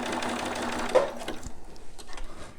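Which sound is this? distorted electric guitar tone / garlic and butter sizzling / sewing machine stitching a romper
sewing machine stitching a romper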